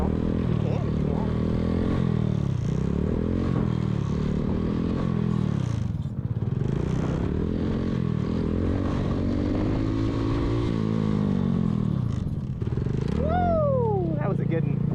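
An air-cooled stunt motorcycle revs and rides in a continuous, fluctuating drone that rises and falls repeatedly, with a sharp whining rise near the end, heard while people talk over it.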